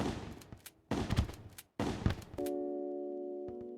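Three sharp, loud gunshots from a gun in Terraria 1.4.4, evenly spaced about a second apart, each with a short rumbling tail, followed by a sustained bright ringing tone and a couple of faint taps.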